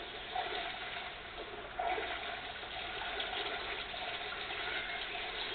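Splashing and rushing water as a character falls into water in Assassin's Creed Brotherhood, a steady gushing wash with a brief louder surge near the middle, heard alone with no voices.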